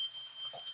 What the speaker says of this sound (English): we've got the smoke alarm going because I just opened the oven